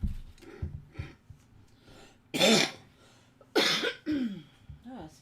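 A woman coughs and clears her throat twice in quick bursts, loud and close, amid quiet rustling while crafting holiday tags.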